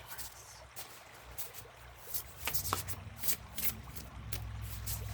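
Quiet riffling and soft flicks of playing cards being shuffled close by, irregular bursts over a faint background hum.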